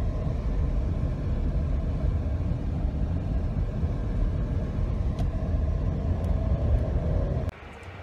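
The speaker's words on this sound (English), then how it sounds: "Cruising around in the Alfa Romeo Stelvio today out at the Saguaro Lake area in Arizona" Alfa Romeo Stelvio plug-in hybrid cruising near Saguaro Lake, Arizona, heard as a steady interior rumble of road and engine noise. The rumble drops off abruptly near the end.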